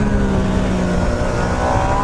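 A Triumph Street Triple motorcycle's engine revs loud and close, a dense steady roar with a whistling, growling edge running unbroken throughout.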